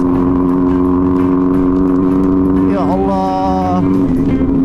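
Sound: motorcycle riding on a dirt road

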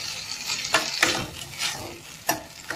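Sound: stirring idli Manchurian ingredients in a pan

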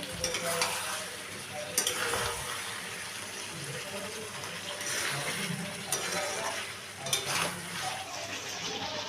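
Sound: stir-frying chicken curry in oil

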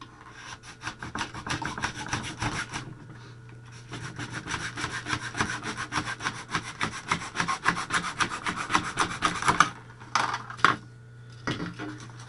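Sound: sanding foam flying wing leading edge with sandpaper

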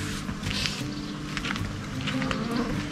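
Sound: Australian flies buzzing

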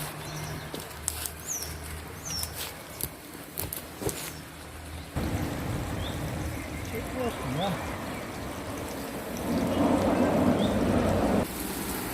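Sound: watering planted cucumber seedlings with a sprinkle-like spray

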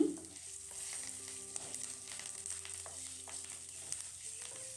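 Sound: fresh coconut and curry leaves frying in a pan

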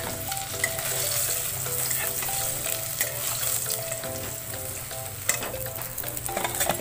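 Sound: rohu fish pieces frying in oil

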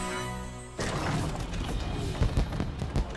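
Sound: fireworks exploding in video game Puppeteer

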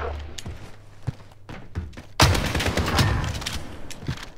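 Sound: gunshot from a shotgun with Dragon's Breath ammo in a video game

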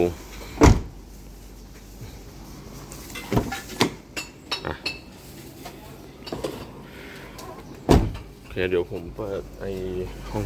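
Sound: car door closing

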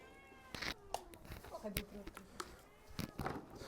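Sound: cat meowing

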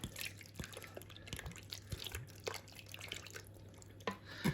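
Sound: ayran poured over shashlik marinade

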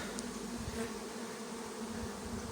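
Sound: honey bees buzzing at hive entrance while collecting pollen

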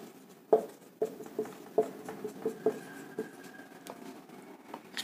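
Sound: writing during a biology lesson

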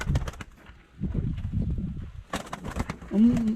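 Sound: pigeons cooing in a pigeon loft

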